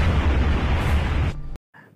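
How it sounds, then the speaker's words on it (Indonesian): Torpedo exploding against a merchant ship in a war film, a loud roaring blast with a heavy low rumble that cuts off sharply after about a second and a half, followed by a faint tail. "para kru kapal selam India mendengarkan ledakan tersebut"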